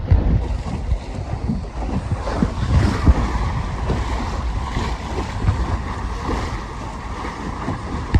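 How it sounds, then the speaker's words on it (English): Gusty wind roars continuously across the microphone aboard a Mirror 16 sailing dinghy at sea off the Isle of May, with steady broadband rushing and rising gusts mixed with water noise from the hull. "Wind's picking up."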